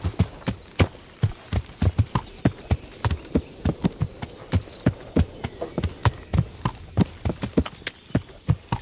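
In the medieval game Kingdom Come: Deliverance, a horse's hooves clip-clop in a quick, steady gait, crisp and close, a regular run of sharp beats over a faint background ambience with no voices.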